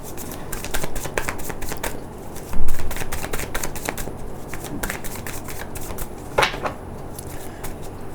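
Tarot cards are shuffled by hand in a quiet room, with repeated rapid riffling bursts and soft taps close by, and no voices.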